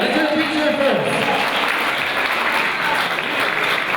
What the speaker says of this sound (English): let's hear a big cheer first